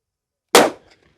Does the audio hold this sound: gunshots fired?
yes